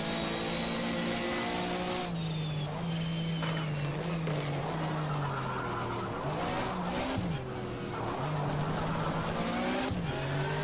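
A Porsche race car in the racing game GTR 2 drives hard, its engine whining loudly and steadily as the pitch rises and drops through repeated gear shifts, with brief tire squeals.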